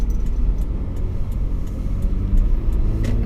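Toyota 4Runner SR5 Premium accelerating on the road, heard as a steady low car rumble with road noise that holds level throughout, no talking over it.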